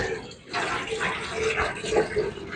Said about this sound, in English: fill this thing up with water.